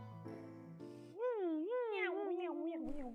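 In a game, a cat gives one clear, drawn-out meow with a wavering, sliding pitch. It is close and loud, and comes after a short burst of synthetic game tones.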